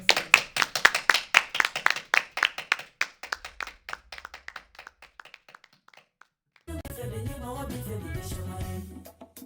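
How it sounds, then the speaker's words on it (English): A room of people claps for director Jimi Okubanjo after a Q&A panel at London PAFF 2023. The dense, crisp clapping thins and fades out over several seconds, and music starts after a short pause. "Let's give Jimi another round of applause."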